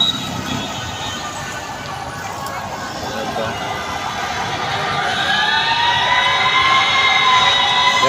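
Fire truck sirens wail steadily in the background at a fire scene, rising slightly in loudness over several seconds, mixed with a murmuring crowd and outdoor noise.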